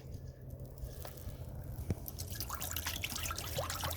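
Apple juice poured into a grated pan beneath a ham on a charcoal grill makes soft, quiet dripping and trickling with scattered splashy ticks, growing busier toward the end.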